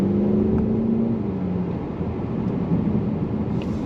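A 2025 BMW M235 Gran Coupe under acceleration in manual mode, its engine note rising and dipping as the paddle shifters change gears, heard steadily from inside the cabin with no talk.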